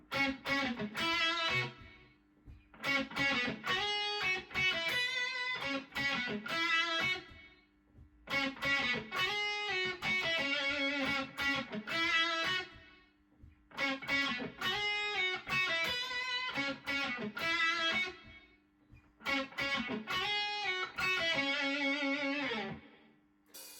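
A distorted electric guitar plays a chunky riff in repeated phrases, each pausing briefly before starting again, loud and close.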